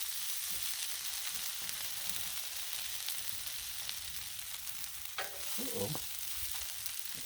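Shrimp fried rice sizzling on a Blackstone griddle while being mixed, a loud constant hiss of frying with occasional metal spatula scrapes near the end, no speech.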